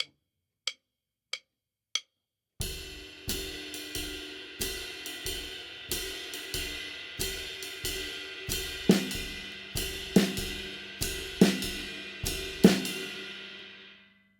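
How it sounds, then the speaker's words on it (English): A few sharp stick clicks count in, then a ride cymbal plays a steady swinging jazz pattern with a washy sustained ring, accented by occasional snare hits. "The next pattern is playing with the ride cymbal."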